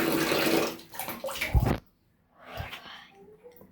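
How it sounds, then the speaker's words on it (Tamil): Water splashes and runs during face washing at a tap, a close burst of pouring and sloshing with a sharp splash, a brief pause, then more softer splashing. "நான் ஃபேஸ் வாஷ் பண்ணுறேன்."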